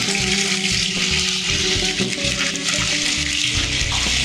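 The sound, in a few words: marinated chicken added to hot pan, sizzling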